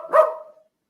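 A single AI-generated golden retriever bark from ElevenLabs, short and clear, alone and followed by silence.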